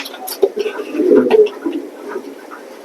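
Racing pigeons coo softly at close range inside a pigeon loft, with low burbling calls clustered in the middle, while someone talks over them.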